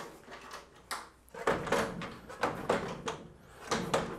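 Steel drawers of a WORKPRO 27.5-inch three-drawer rolling tool chest sliding and shutting, a series of sharp metallic clunks and knocks spaced about half a second apart, close and fairly loud with no talking.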